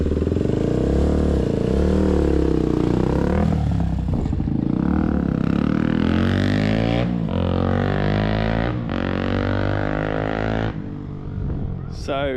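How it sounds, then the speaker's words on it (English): A 1999 Honda XR250 dirt bike with a freshly rebuilt carburettor runs loud and close, its single-cylinder engine blipping and revving repeatedly with pitch swells and dips, with brief talk over it. "Go for a ride, mate, and let everyone listen to it."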